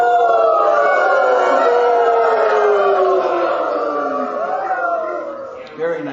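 A crowd of audience members howls together like coyotes, with many overlapping rising and falling voices sustained for several seconds, loud and close. The voices imitate the sound.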